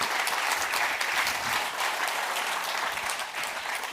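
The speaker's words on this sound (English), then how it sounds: "I think they need a big applause for coming here to make that summit possible." Audience applause at a summit, steady dense clapping from a crowd holding at an even level throughout with no voices over it.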